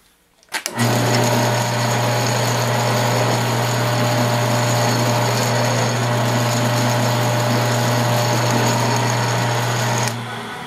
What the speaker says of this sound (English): Okay, I'm going to spot drill it.